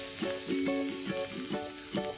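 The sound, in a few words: chopped onion frying in hot oil in a pan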